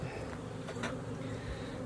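Honey bees buzz around their hives beside a multi-queen micro nuc setup, a steady, dense hum that holds evenly throughout with no talking.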